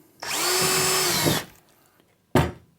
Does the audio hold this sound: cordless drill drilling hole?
yes